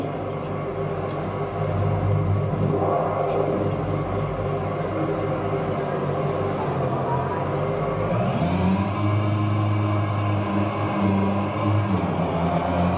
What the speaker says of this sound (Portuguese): Você fez o motor rotacionar em excesso.